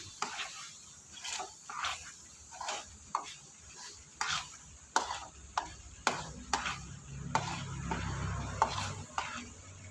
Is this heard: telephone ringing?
no